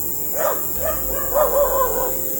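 Dogs bark and yelp a few times at a moderate distance, short whining barks scattered over a faint, steady background hiss.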